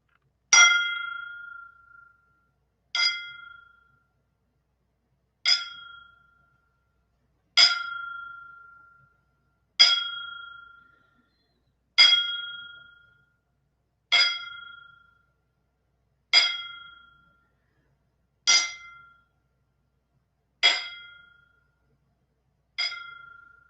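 A ringing bell for a wrestling memorial tribute, a ten-bell salute: about eleven evenly spaced, bright metallic strikes roughly two seconds apart, each decaying cleanly into silence, with no talk over them.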